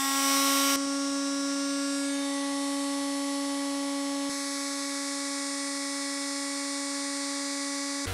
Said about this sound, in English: Test number five, an electric sander.